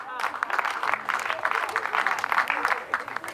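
Audience applause at a talk on wealth and loans, a continuous patter of many hands held under a speaker's voice throughout.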